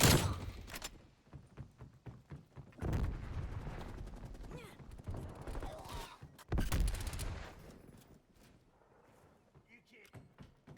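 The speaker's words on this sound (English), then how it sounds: "They're using like a Tommy gun over here" Rapid bursts of Tommy gun fire in a Call of Duty match, loud and close, with heavy volleys near the start and middle that thin out toward the end, mixed with other game sounds.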